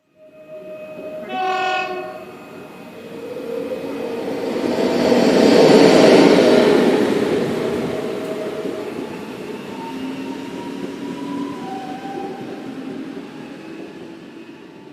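Two trains pass each other with a loud horn blast early on, followed by a swelling, then fading rumble of wheels and carriages that stays steady in the background.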